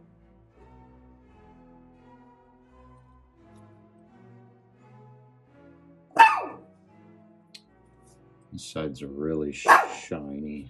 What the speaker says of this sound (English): Apologize for the dog.